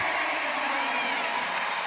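A family cheers for an athlete at a rowing event in a CrossFit semifinal competition, with continuous crowd noise and shouts mixed with a commentator's voice.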